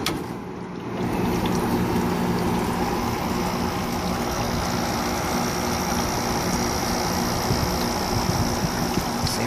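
A Maytag air conditioner with a newly replaced capacitor runs its compressor and fan as a steady, loud, continuous hum and whoosh. The sound rises after a brief quieter start and then holds even with no talk.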